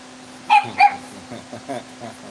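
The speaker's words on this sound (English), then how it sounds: "That's a scary bark." A small young dog gives two sharp, close barks, followed by a few softer yips and whimpery sounds over a steady low hum on a back porch.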